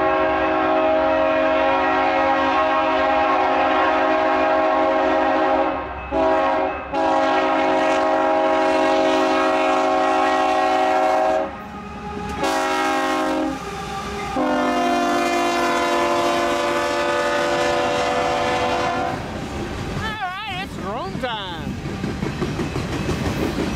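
A Union Pacific mixed freight train passes close by, its horn sounding in long sustained blasts over the steady rumble and clatter of the wagons, with the horn stopping briefly partway through before the train rolls on and the sound roughens near the end.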